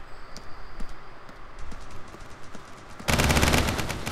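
Gunfire in the blocky shooter Blockstorm: sparse shots tick by, then a loud, close burst of rapid automatic fire erupts near the end.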